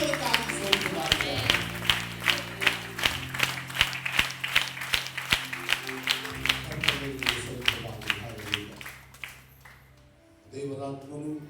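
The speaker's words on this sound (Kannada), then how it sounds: "ಎಲ್ಲರೂ ಚಪ್ಪಾಳೆ ತಟ್ಟ ಅವರನ್ನು ಬ್ಲೆಸ್ ಮಾಡೋಣ" A church congregation at an anniversary service claps together in a steady, loud rhythm over sustained musical tones; the clapping stops near the end and a voice follows.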